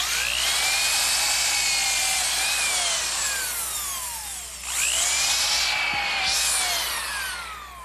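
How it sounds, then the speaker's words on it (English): A power drill with a countersinking bit pre-drills a screw hole in softwood, giving a loud, high whine that sags in pitch as the bit bites, stops briefly, then spins up and bores again. "pre-drill a hole using this bit, which gives me a countersink for the screw heads"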